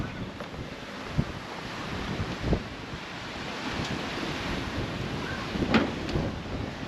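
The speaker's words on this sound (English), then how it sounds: "I mean, it's windy, but it's nice to be outside." Wind blows at a beachside campsite about an hour from Melbourne, buffeting the microphone over a steady wash of waves, with a few soft thumps and knocks nearby.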